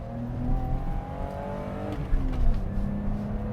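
A BMW 325i E30 engine pulls hard after a gear change, a sustained rising drone with a brief bump in the middle, heard from inside the car with no talking.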